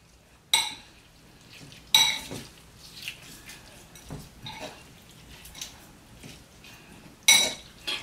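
Bagoong, fermented shrimp paste, being mixed with a salt and vinegar mixture in a container: a few sharp utensil clinks and scrapes against the bowl, separated by quieter stirring, with no talking.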